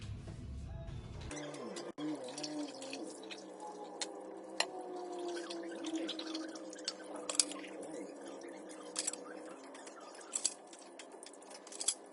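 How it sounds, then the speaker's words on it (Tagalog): Faint water dribbles and drips while washed dishes are rinsed at a sink. The sound is soft and irregular, with occasional small clinks and splashes and no talking. "ngayon guys, magbabanlaw na tayo"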